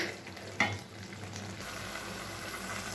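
Taro greens cooked with a hilsa fish head are stirred in a pan, with one sharp scrape of the spatula over a soft, steady simmering sizzle.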